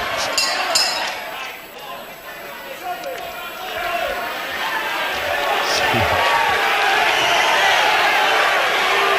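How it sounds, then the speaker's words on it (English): Dense, noisy crowd roar fills a packed hall at a televised professional wrestling bout, a steady wall of shouting and cheering that swells toward the end, with a few sharp knocks near the start. "this packed crowd here hardly allowing us to be able to think here, so much noise"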